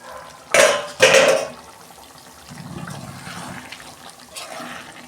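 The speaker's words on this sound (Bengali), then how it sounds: "দেখুন বন্ধুরা, ঢাকনা খুলছি।" A lid comes off a cooking pan of chicken gizzard and liver curry with two loud metallic clanks, followed by a soft, steady sizzle and bubbling from the pan.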